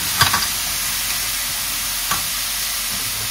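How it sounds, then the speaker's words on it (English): Cauliflower steaks sizzling in a pan over medium to high heat, a steady close hiss of frying with a couple of soft pops and stirring sounds, no talking. "So you hear that sizzle?"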